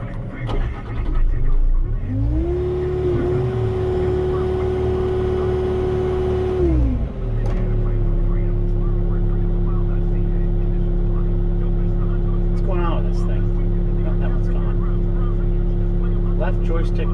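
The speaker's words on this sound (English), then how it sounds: "Engine on low." A lawn-work machine engine revs up briefly, holds a higher whine, then drops back to a steady low drone that continues throughout.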